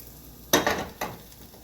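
Cooked noodles are stirred into beef stroganoff with sour cream in a pan: two short, close scraping strokes, each fading out, the second softer than the first.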